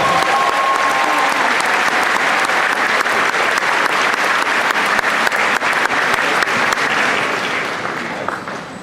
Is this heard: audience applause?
yes